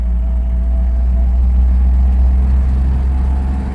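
Land Rover engine pulling in fourth gear at low revs around 1,200 RPM, a steady deep rumble that builds gently as the vehicle gains speed, close and loud with no talk.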